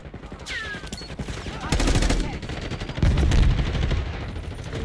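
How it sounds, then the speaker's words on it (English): Sniper and other gunfire in the video game Black Ops 6: a few sharp, loud cracks stand out over a busy background of rattling shots and battle noise, close and prominent. "Get down, we got a sniper!"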